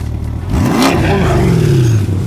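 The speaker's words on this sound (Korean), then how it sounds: "그리고 지금 엔진 시동을 걸었는데요" A 5.2-litre V8 engine in a Chevrolet Corvette C8 cranks and fires up, then settles into a deep, rumbling idle with a rising and falling tone, close by and steady.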